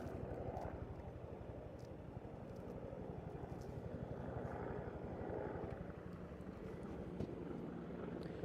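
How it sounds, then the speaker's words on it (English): Firefighting helicopters working over a wildfire near Peachland, heard as a steady low rotor and engine drone with wind buffeting, moderately distant and continuous throughout. "The choppers are back on the scene."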